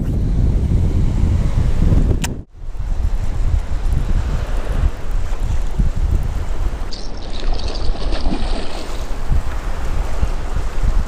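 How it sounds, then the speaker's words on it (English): Strong wind buffets the microphone on an island shoreline during pike fishing, a loud continuous roar with surf-like rumble that briefly drops out before gusting back in. "Can't hear you because of this wind"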